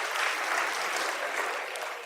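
A live audience at a Christmas stage show bursts into dense, steady applause, many hands clapping together in a full wash of sound that holds throughout and tapers slightly at the end.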